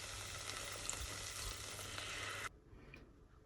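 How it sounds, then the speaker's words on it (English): White wine and stock added to caramelized onions in a hot pot for French onion soup, giving a loud steady sizzle with faint stirring scrapes that cuts off abruptly into near quiet. "add the white wine. Stir in the wine stock, thyme, and bay leaf."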